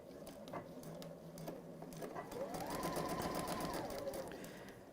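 A sewing machine stitches a fabric seam in a steady, continuous run for about five seconds, its motor hum and rapid needle patter holding close and fairly even, with no voices.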